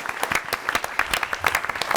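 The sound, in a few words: audience applause at a comics panel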